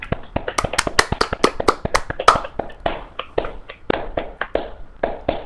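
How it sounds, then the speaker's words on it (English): A crowd at an E3 2014 gaming event claps loudly and steadily, many hands striking in quick, dense bursts for several seconds. "That's a very loud applause."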